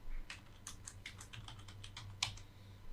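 Quick keystrokes tap out on a computer keyboard, a close, quiet burst of about a dozen clicks in an irregular rhythm with one sharper key strike near the end.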